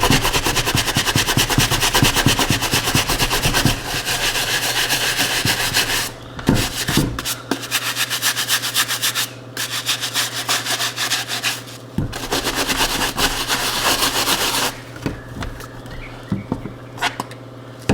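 A brush with Colorlock cleaner scrubs ordinary dirt and grime off a shoe, making close, rapid, rhythmic scratchy strokes in bursts with brief pauses between them.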